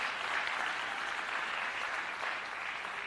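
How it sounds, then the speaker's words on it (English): A TEDx audience gives a full round of applause, a steady wash of many hands clapping at moderate distance, holding evenly and tapering slightly at the end. "Give yourselves a round of applause."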